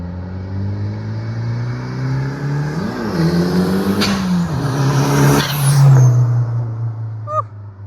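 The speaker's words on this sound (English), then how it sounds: "Car sounds great." A Mitsubishi Eclipse GSX with a 6-bolt engine revs close by, the pitch climbing and dropping through a few throttle blips over a steady idle, with a brief high squeak near the end.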